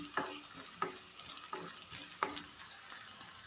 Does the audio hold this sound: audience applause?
no